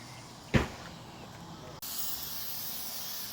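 An aerosol spray can lays a heavy fourth coat of Plasti Dip onto a car grill, a steady close hiss that starts abruptly partway through and carries on alone after a brief earlier burst.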